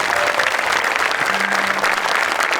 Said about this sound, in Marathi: वरून टाळ्या वाजवायच्या